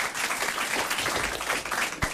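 Brief burst of dense, lively clapping from a French radio studio audience, steady and close, with a small thump near the end.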